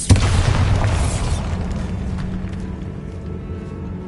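Bombarda explosion spell from the Hogwarts Legacy video game lands as a single loud, deep boom with a sharp onset, then rolls into a long rumbling decay that fades over several seconds.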